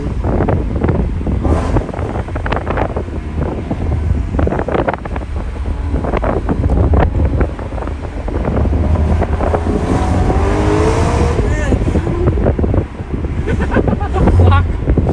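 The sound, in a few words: BMW E90 M3 with custom exhaust driving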